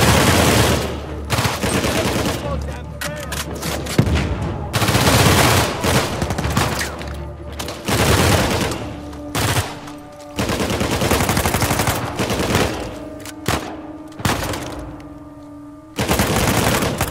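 Dense gunfire in the Uncharted 4 video game, including shotgun blasts, loud and nearly continuous with rapid bursts and booming shots layered over game action throughout.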